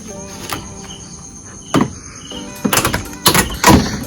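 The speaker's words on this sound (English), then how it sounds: "All you need to do is open the door and then just pull it off like this." A rubber weather strip is pulled off a car door with several sharp, close tearing bursts that come in quick succession near the end over a quiet background.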